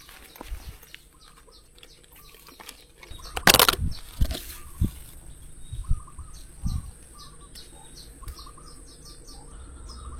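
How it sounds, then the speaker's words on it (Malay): Bird calls at a riverside fishing and camping spot, repeated chirps and tweets in the distance over insect and cricket buzz, with a few louder close knocks and thumps in the middle. "Burung ni."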